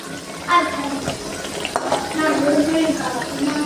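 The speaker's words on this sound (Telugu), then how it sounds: "డీప్ ఫ్రై చేయాలి." Kachori deep frying in hot oil, a steady close sizzle and bubbling with occasional stirring clinks, continuous and moderately loud throughout.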